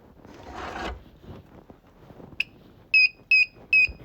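An electric scooter under repair gives a short single chirp and then three loud, evenly spaced electronic beeps as its key is turned, after a brief rustle of handling in a quiet room.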